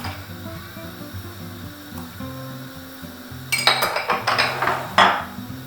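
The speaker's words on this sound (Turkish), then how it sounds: "Tekrar karıştırıyorum." A creamy mushroom soup being stirred in a pot, with a run of close, loud clinks and scrapes of a utensil against the metal in the final two seconds after a quieter stretch.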